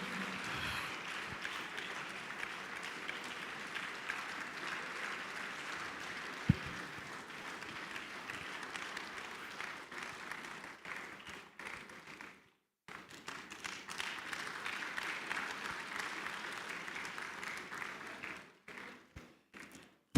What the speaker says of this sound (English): Let's keep clapping till he takes a seat.